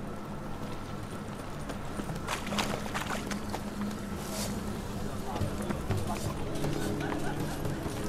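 The horse Roach galloping in The Witcher 3 video game, rapid rhythmic hoof clip-clops over ambient game sound, with a voice talking over it.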